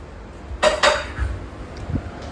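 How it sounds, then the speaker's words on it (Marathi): Dishes and utensils being scrubbed and washed by hand, with a pair of close clatters of pots and cutlery followed by softer scraping and clinks. "बघा भांडी घासते इकडं आणि इकडं ठेवते"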